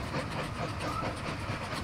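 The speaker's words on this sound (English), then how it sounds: "Oh, there is a freight train carrying lumber." A freight train hauling lumber rolls past in the video game Mashinky, a steady rumbling and clattering wash of rail noise with a faint hiss, continuous and fairly close, with no talk over it.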